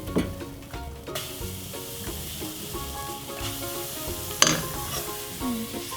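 Apam balik pancake batter sizzling in a very hot pan, a steady close frying hiss with soft clinks of a utensil and one sharper scrape partway through.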